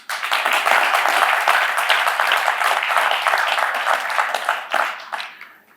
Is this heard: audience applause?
yes